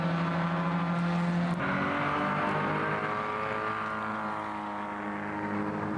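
A Jaguar E-Type race car at Silverstone roars steadily at close range, its engine note dropping abruptly partway through as it shifts, then climbing again in a sustained, harmonic-rich howl with no voices over it.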